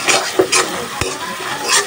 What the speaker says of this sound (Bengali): মশলাটা কষানো হয়ে গেছে, আর এখন মাছগুলো দিয়ে